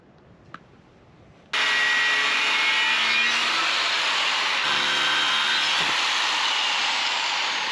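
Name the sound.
power tool cutting a steel piece for a tractor rake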